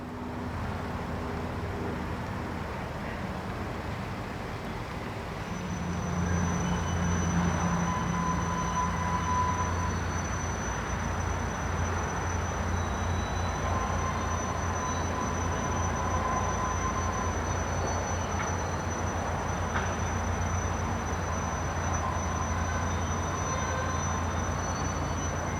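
A freight train locomotive backs down onto a yard track, giving a steady low diesel rumble with rolling rail noise and faint squeals, loudness rising slightly partway through and holding at a moderate distance.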